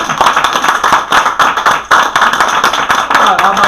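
A small group claps hands together at the close of a stress-counseling coaching session, a steady run of sharp, dense claps close by with brief dips, voices faintly mixed in.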